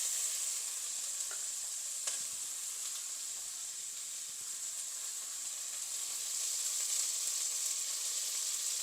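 Potato, brinjal and onion sauté in a pan for a spicy dried fish curry, giving a steady, even hiss of frying with a few faint clicks of stirring and no voices.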